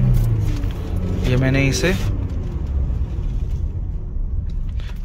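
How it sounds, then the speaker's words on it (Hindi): A Toyota Innova Crysta petrol engine pulls at full throttle in second gear, a steady low rumble and drone that holds throughout, with someone talking over it near the start. "अभी मैं फिर से इसे एक बार सेकंड गियर में डाल लिया है और फुल एक्सेलरेशन करता हूँ"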